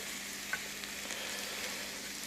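A steady, soft sizzle of vegetables sautéing with onions in a pan, with a few faint stirring clinks, quiet and continuous.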